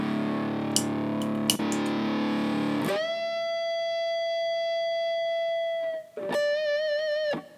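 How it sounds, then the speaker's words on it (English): A guitar through a Hotone Ampero mini multi-effects unit's tube-screamer-style overdrive shifts from thick, distorted crunch to a clean sustained note, then a brief strum rings out with overdriven harmonics. "it's got like a tube screamery thing, so if I turn that on"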